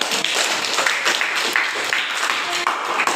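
A class applauds, a burst of many hands clapping in a dense patter for a few seconds, close and steady.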